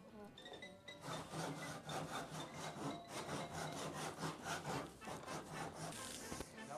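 A hand saw cuts wood for a large wooden xylophone, its steady back-and-forth rasping strokes running close and even for several seconds before stopping, with no talk over it.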